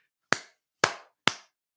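Three sharp, loud hand claps spaced about half a second apart, each decaying quickly, with silence between and no talking.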